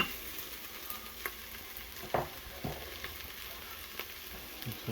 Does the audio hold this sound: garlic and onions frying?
yes